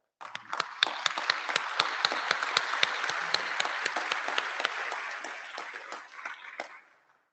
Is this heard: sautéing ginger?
no